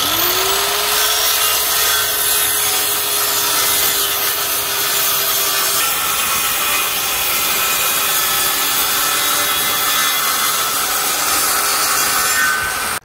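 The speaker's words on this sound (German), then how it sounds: "oder man legt es einfach hin und schneidet jetzt von dem hier eine Überlänge ab" A hand saw works through a wooden board to cut off excess length while building a raised garden bed, loud close steady rasping strokes for the whole stretch.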